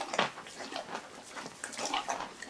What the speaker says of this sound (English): Now, how could you tell that that's a horse eating?